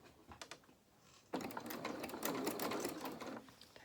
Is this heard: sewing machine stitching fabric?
yes